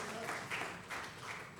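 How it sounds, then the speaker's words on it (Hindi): Brief burst of audience clapping at a village launch event, a short wash of applause that swells and dips over under two seconds. "एक बार जोरदार तालियां इधर से"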